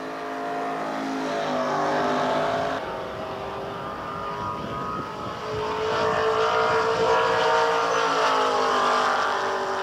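A 350 Chevrolet muscle car making a drag strip run without nitrous: a loud, sustained engine roar that climbs in pitch, drops briefly at a gear change, then climbs again.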